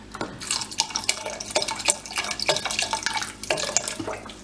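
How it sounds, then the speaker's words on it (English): Beef broth pours and splashes into a pot of chili in a continuous, trickling stream of liquid, close by and fairly steady, with no talking. "Just going to put a little bit more of the beef broth."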